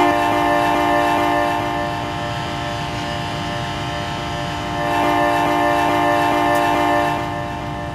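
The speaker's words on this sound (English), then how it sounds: "What I do like about the way they coded the horn is that, let's do this." A locomotive horn in Train Simulator 2016, on a New Jersey Transit North Jersey Coast Line train, sounds a loud, sustained multi-tone chord over rumbling rail noise and swells twice.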